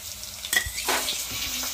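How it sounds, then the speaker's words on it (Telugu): Ginger garlic paste sizzling and frying in hot oil with browned onions for onion biryani, a steady close crackle with light stirring throughout. "ఈ విధంగా వేగిన తర్వాత అయితే అల్లం వెల్లుల్లి పేస్ట్ వేసేసుకుందాం"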